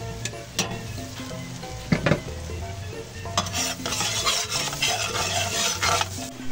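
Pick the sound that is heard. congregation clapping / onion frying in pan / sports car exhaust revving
onion frying in pan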